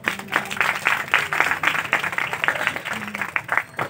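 An audience at a Christian revival meeting claps steadily and densely for several seconds, a close, continuous wash of hands.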